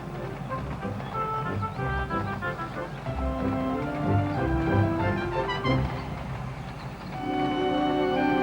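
A train rumbles past steadily with rhythmic rail noise, overlaid by tonal, music-like sounds, loud and continuous throughout.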